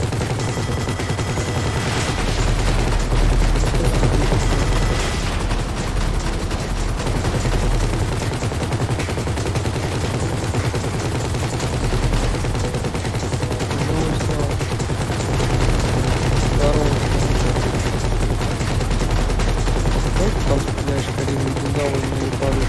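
Sustained heavy gunfire during a shootout in Grand Theft Auto V's Humane Labs raid, with continuous machine-gun fire and shots layered over a loud engine drone, while players talk throughout.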